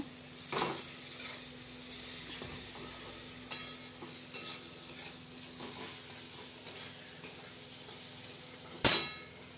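A paste of spices, ginger, chili powder, turmeric, salt and tomato fries in oil in a pan with a low, steady sizzle. Occasional spoon scrapes and metal clinks punctuate it, and there is no talk.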